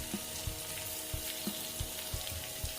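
Peas and green chilli pieces cook in a pan over medium gas, giving a steady soft sizzle with light, regular taps and stirring clicks, quiet and close with no voices.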